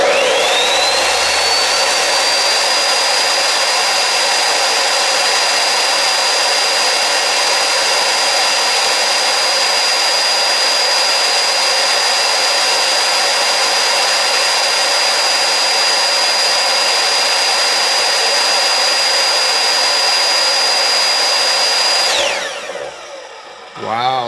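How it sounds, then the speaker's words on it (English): A miter saw powered by a VEVOR 3500 watt pure sine wave inverter in an off-grid setup screams with a loud, steady motor whine. It spins up at the start, runs without a break for about twenty seconds, then winds down and stops. "Now let's turn on the miter saw."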